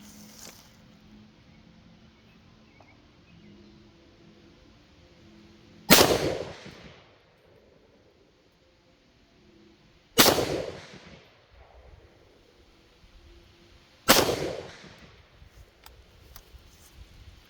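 Three loud rifle shots from a JLD PTR 91K at 50 yards on an outdoor range, each a sharp crack with a decaying tail, spaced several seconds apart.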